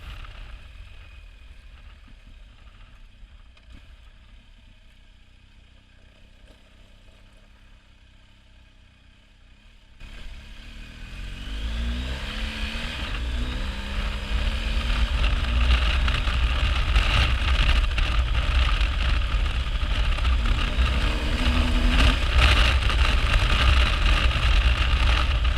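A BMW R1250 GS Adventure HP motorcycle rides along a dusty gravel road, its engine starting as a quiet low rumble and then rising to a loud, steady drone as it picks up speed, with wind rush throughout.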